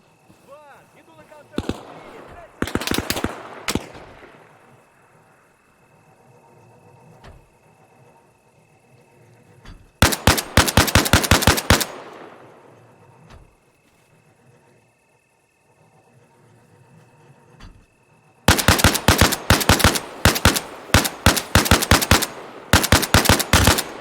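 An armored BMP vehicle fires its autocannon in the military game Arma Reforger: three loud bursts of rapid automatic shots, with quieter gaps, distant rumble and echo between them.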